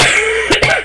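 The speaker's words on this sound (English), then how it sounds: "I keep trying not to cough." A single sharp, close cough, loud and brief, breaking through a steady hum of background noise.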